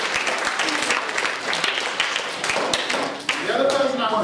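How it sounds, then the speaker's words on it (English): Classroom applause at a student narrative publishing party, with lively mixed clapping and some sharp taps. Near the end it gives way to a voice talking. "So give her a round of applause."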